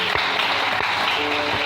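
A church congregation applauds and cheers in praise of the Lord, a steady, dense wash of clapping that fills the space without pause.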